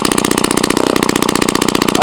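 A Husqvarna 44 chainsaw engine runs steadily at a fast, even two-stroke putter, loud and close throughout with no pause.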